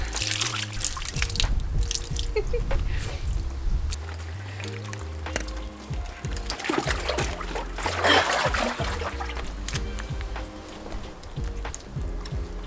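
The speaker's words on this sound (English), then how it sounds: "I'm gonna go and get in the nice warm shower" Warm shower water runs steadily, with a continuous hiss of spray and uneven splashing and dripping, plus occasional small knocks in the bathroom. No one speaks.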